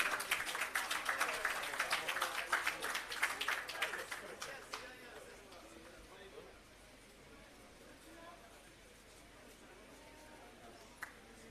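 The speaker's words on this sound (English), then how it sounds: "Both of them, please give them a round of applause." A crowd claps at the opening of an agro park, loud and brisk for about five seconds, then fading to scattered hands and quiet room noise.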